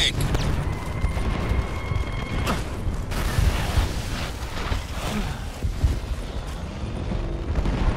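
Gunfire in the video game Evolve as a hunter shoots at a monster egg in a nest: loud, dense bursts of automatic fire with heavy booming impacts, continuous and close.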